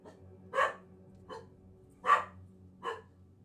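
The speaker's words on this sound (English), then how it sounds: "you guys could hear my dogs now when I'm saying that" Dogs bark in four separate, well-spaced bursts over a steady low hum, moderately close, with no talking.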